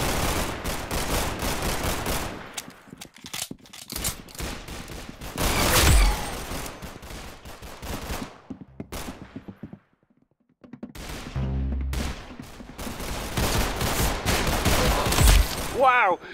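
Repeated bursts of gunfire in Roblox Arsenal, loud close volleys broken by short gaps and one near-silent pause, with a voice talking at times.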